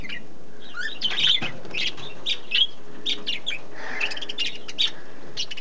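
Budgies in an aviary chirp and squawk in quick, bright bursts, several birds calling close by in an irregular rhythm over a quiet background.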